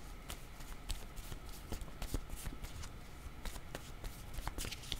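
Playing cards shuffled by hand for a tarot-style reading, a steady run of quick riffling flicks and soft snaps lasting several seconds, close and fairly quiet with no talk.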